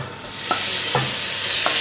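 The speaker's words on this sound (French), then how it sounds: "On va ajouter l'équivalent à peu près d'une cuillère d'huile d'olive et on va venir mettre notre viande qu'on aura laissé mariner" Marinated meat fries in olive oil in a pan, giving a steady bright sizzle, close and loud, with a few soft stirring knocks.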